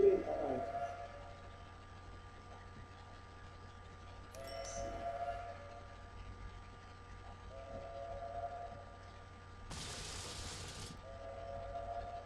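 Game sounds from OpenTTD as the first oil train arrives at a station, with faint rumbling rail noise under steady hum and a brief burst of noise near the end, no talk.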